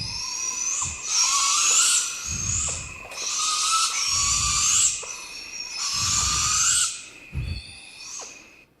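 Young barred owls beg for food with repeated rasping, hissing screeches, several long harsh calls in a row with short gaps, close and fairly loud, with occasional low thumps between them.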